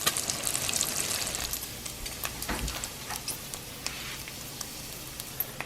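Bacon frying in a pan weighed down by a potato masher, a steady crackling sizzle with scattered sharp pops and ticks, close and continuous.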